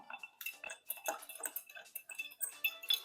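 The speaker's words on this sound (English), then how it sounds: "Very gently drop a nice large cube of ice and get stirring" Russell's Reserve bourbon being stirred over one large ice cube, heard as a quick run of light, close clinks and ticks of the spoon against ice and glass, steady and rhythmic, with no talk.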